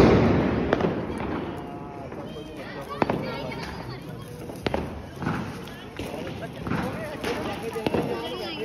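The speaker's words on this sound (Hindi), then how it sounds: "तो अब हम जा रहे हैं पटाखे जलाने" Diwali firecrackers going off during a family celebration, several sharp bangs and thumps scattered at irregular intervals, with people talking and chattering nearby throughout.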